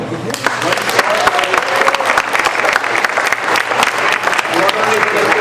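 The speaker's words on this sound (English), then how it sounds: "We can loudly applaud." Loud, sustained applause from an audience after a children's performance at a Chinmaya Haridwar annual day celebration in Portland, dense clapping steady throughout with a voice speaking faintly underneath.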